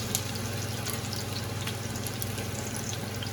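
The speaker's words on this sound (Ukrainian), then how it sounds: "Дуже швидко смажиться" Food sizzling and crackling in hot oil in a pan, a steady close hiss with scattered pops, no talking.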